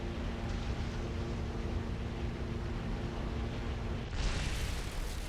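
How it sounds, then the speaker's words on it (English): Tank exploding in War Thunder replay: a steady engine-like rumble runs throughout, then a sudden broadband burst near the end marks the blast, moderately loud and without talking. "And there's the tank exploding."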